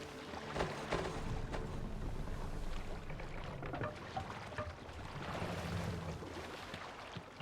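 A Viking longship pushes through ocean waves in Assassin's Creed Valhalla, giving a steady low rush of water and wind with soft splashes rising and falling throughout.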